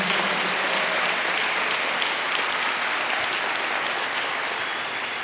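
A church congregation claps together in a dense, sustained wave of applause filling the hall evenly throughout, with no speech over it.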